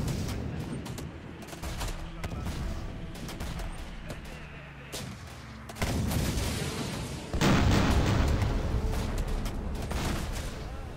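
Artillery and gunfire rumble through the war video game Syrian Warfare: Battlefields, scattered shots and booms that swell into heavier, louder blasts toward the end, with a faint voice now and then.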